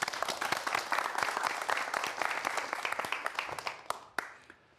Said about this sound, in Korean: 자, 박수 부탁드립니다.